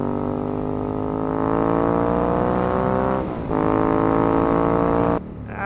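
Ducati 916 or 1199 Panigale sport motorcycle engine idling and revving, a deep steady throbbing drone that swells slightly, with a short dip and then a sudden cutoff near the end.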